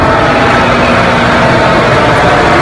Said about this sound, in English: That's the sound of the generator.